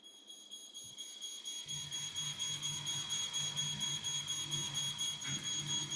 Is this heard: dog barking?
no